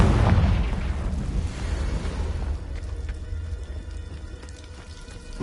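Confringo fire spell explosion in Hogwarts Legacy on PS5, a loud burst up front that rolls into a crackling, rain-like hiss fading over several seconds.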